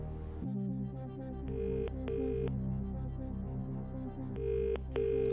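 Telephone dialing tones for a phone-a-friend call on the UK TV quiz show Who Wants to Be a Millionaire, sounding as two pairs of short electronic beeps over a steady, tense studio music bed.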